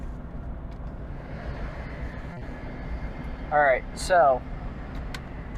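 A 2005 Jeep Liberty Sport 4x4 drives on the road, a steady low engine and road rumble inside the cabin, with someone speaking briefly over it near the end.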